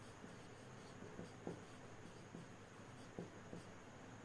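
Writing during a chemistry lesson on the solid state produces faint, intermittent scratchy strokes, soft and close, with short gaps between marks over a quiet room background.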